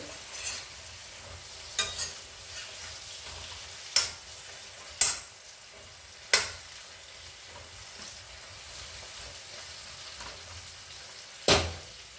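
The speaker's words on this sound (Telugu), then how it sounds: "ఇప్పుడు ఇవన్నీ మంచిగా తాలింపులో కలిపేసుకోవాలి" Bajji chillies being stirred into a hot frying tempering for mirchi ka salan, with sharp scrapes and clacks of the spoon at irregular moments over a low, steady sizzle. No voices.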